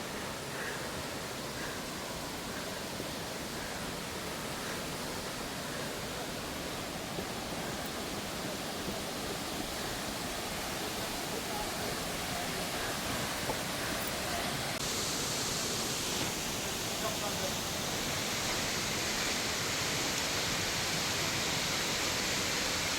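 Steady broadband rushing of falling water, dense and continuous like a waterfall close by, fed by rainwater, with no talk over it.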